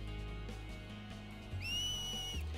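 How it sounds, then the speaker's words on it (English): A two-fingered whistle heard in Final Fantasy X, played at a port in Spira, rising into a sustained bright tone for about a second over a steady low game music bed. "I know how to whistle"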